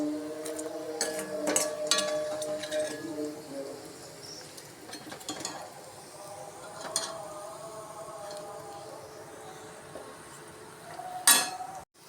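Cauliflower frying in hot oil as it is lifted out, with steady clinks and scrapes of a metal ladle against the pan and a soft sizzle underneath, close and moderately loud, ending in a sharp clatter.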